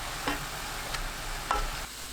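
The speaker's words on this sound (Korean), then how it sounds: "청양고추, 홍고추, 들깨가루 듬뿍 2큰술 넣고 1분 볶아주세요." Bean sprouts and button mushrooms stir-fried with green and red chili peppers and perilla seed powder, giving a quiet continuous sizzle broken by a few spatula scrapes, close up with no talking.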